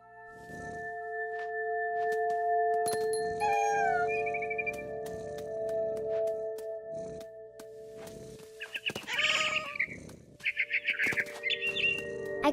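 Bird chirps and tweets ring out in What Remains of Edith Finch, short bright calls scattered over a steady tonal game backdrop, with a louder cluster of chirps near the end.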